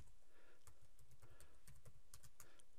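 Keystrokes on a computer keyboard while entering a plant name into an AutoCAD block attribute, a steady run of close, quiet clicks in irregular bursts with no talking.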